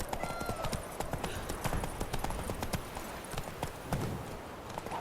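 Roach, the horse in The Witcher 3, trots along with brisk, steady clip-clopping hooves, close and continuous throughout.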